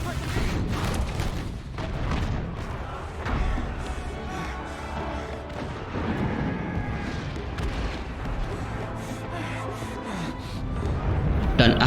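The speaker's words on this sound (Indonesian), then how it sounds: "Mereka meminta bantuan angkatan laut untuk menyerang dengan meriam." Naval cannon artillery fire in a war film, heard as a dense, continuous rumble of heavy booms and blasts that runs through the whole stretch, loud and overlapping with battle noise.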